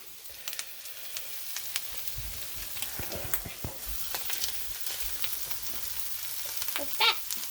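Canned corned beef hash frying in a pan with a soft, steady sizzle and crackle, broken by a few light utensil taps and one brief louder scrape near the end.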